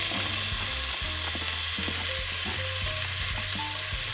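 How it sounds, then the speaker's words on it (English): Chopped onion, garlic, celery and carrots go into a pan beside vegan chicken strips for noodle soup, and they sizzle in a steady, loud, close frying hiss, with faint utensil scrapes and ticks now and then. "strips over to one side of the pan and we're gonna add our veggies in."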